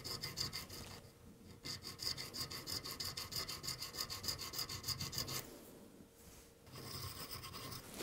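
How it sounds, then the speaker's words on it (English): A file rasping in the nut slots of a guitar during a nut replacement, quick rhythmic back-and-forth strokes in two close, steady runs separated by a short pause, with no talking. "File the slots, but don't go deep just yet."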